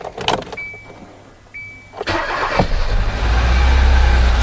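Kia Soul with a fault that makes it lose power and stall at stops, heard as a car engine cranking and catching, then idling loudly and steadily, close up, with a faint electronic tone before the start.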